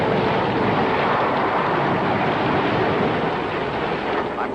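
A propeller aircraft flies low over the Pacific through a storm, its engine drone a steady, loud broadband roar that stays constant throughout, with no voices.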